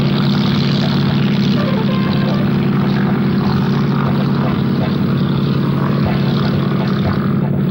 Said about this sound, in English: The spectators watched as the plane took off.